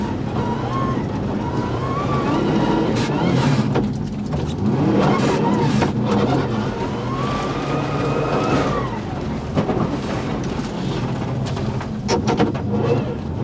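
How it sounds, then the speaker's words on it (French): A rally car on snow tyres spinning out during a winter rally, with a continuous engine drone that rises and falls in pitch as it revs, loud and close throughout. "la combinaison de pneus neige et une rare erreur l'amène en tête à queue"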